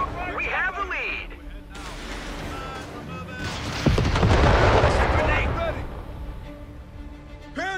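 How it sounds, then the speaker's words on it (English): Gunfire and artillery thunder across a battlefield in the video game Company of Heroes 3, with rattling shots and chirping effects early on, then a heavy, sustained barrage of booms and explosions building loud in the middle before easing off. "We're taking fire!"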